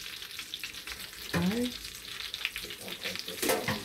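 Honey garlic lamb chops sizzle steadily in a pan, a broad continuous frying hiss with brief louder bursts and scraping as the chops are moved, close and moderately loud with no talk.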